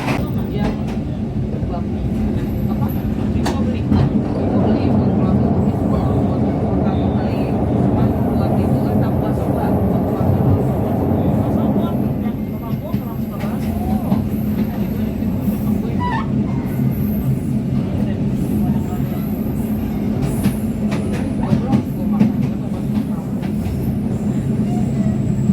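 Continuous rumble and rattle of the Argo Muria passenger train in motion between Semarang and Bekasi, heard from inside the carriage, with faint clicks and a voice talking over it.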